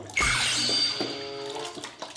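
Water pours from a tap or shower and rinses a cat during a bath, a steady close splashing stream that eases off, with no talk over it.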